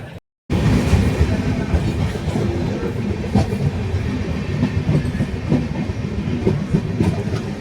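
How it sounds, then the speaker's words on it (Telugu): A special passenger train runs on railway tracks, heard as loud continuous rumbling with rhythmic clickety-clack of wheels over rail joints, steady throughout after a brief silent gap at the start. "సో ట్రైన్ ఇదే సికింద్రాబాద్ ధర్మాబాద్."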